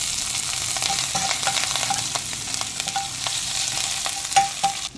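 Cumin, mustard seeds, dried red chillies, fenugreek, curry leaves, green chillies, chana dal and urad dal fry in hot oil for a Telangana-style taro curry: a steady, close sizzle with frequent spoon scrapes and clinks against the pan.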